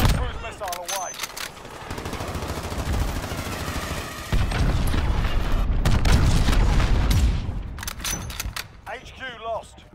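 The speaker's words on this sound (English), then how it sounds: "Allied cruise missile away." Cruise missile strike in Call of Duty Modern Warfare, heavy booming blasts and rolling explosions mixed with rattling gunfire, loud and near, with radio-style voices talking over parts of it.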